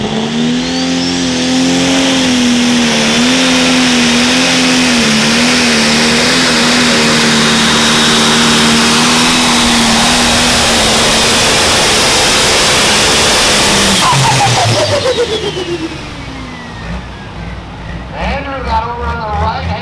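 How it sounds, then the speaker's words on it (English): A heavy John Deere pro stock pulling tractor engine with big turbos roars loudly at high revs for a long stretch, its pitch wavering, then winds down near the end as an announcer talks over it. "Andrew Horwald bringing the RPM to it"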